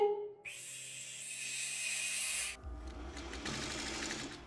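A sewing machine stitches a quilt block in one steady, fast whirring run of about two seconds, close and clear, followed by fabric shuffling and handling noises.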